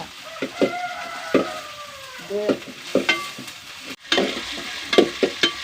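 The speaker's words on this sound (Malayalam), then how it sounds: "ഉള്ളി ഒന്ന് നന്നായി മൂത്ത് വരട്ടെ" Crushed small onions (shallots) fry in a pan with a soft sizzle beneath repeated close scraping and clattering as a spoon stirs them.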